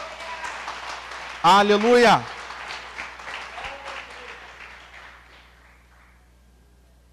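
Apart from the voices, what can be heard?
church congregation applauding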